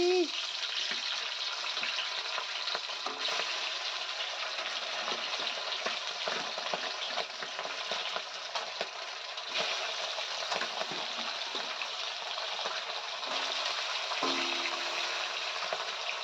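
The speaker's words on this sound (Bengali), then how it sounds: "এখানেই কড়াইয়ের মধ্যেই হবে এখন মাছ ভাজা" Pabda fish frying in hot oil in a wok, a steady dense sizzle and spatter running unbroken throughout at close range, with occasional faint clinks of a metal spatula.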